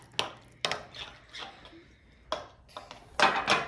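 Homemade chili being mixed by hand after Tex-Mex cheese goes in, with a handful of clinks and scrapes of utensil against pot or dish, spaced irregularly and moderately close, bunching into a louder clatter near the end.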